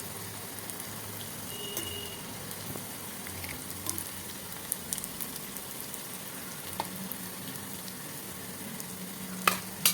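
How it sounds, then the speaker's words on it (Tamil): Onion pakoda balls deep frying in hot oil give a steady, even sizzle with small crackles and pops throughout, close and moderately loud, with no talking. "கொஞ்சமாக பொரிஞ்சதும் அதை அப்படியே திருப்பி விட்டுக்கோங்க."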